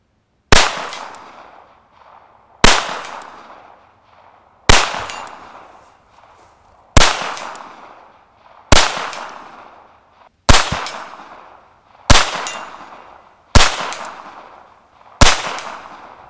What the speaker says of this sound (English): We're gonna shoot the steel at 75 yards